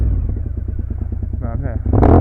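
A cold Raptor motorcycle idling nearby, a steady lumpy chug with a couple of small blips of throttle before a louder rise at the end, no talking over it.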